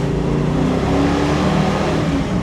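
A 1969 Mustang Mach 1 with a rare 4.30 Super Cobra Jet drag pack accelerates in gear, its engine a loud, close, steady roar.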